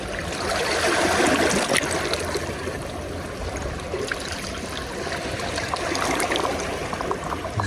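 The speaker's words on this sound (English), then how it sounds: "The waves come up." Ocean waves wash over rocks and gooseneck barnacles along the shore, a close, continuous rush of churning, trickling water that swells and eases in gentle surges, with no voices.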